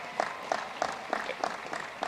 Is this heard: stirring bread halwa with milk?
no